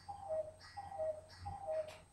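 A cuckoo clock in a video game ticks faintly, with a steady, quiet tick-tock repeating about three times over a low hum and no voices.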